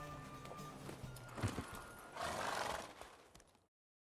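In The Witcher 3, a horse whinnies loudly and clip-clops nearby amid game ambience, then the sound cuts to silence near the end.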